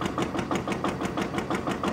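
An antique gas engine drives a generator at a fall engine show, chugging at a steady idle with evenly spaced pulsing beats, fairly quiet and close with no talk.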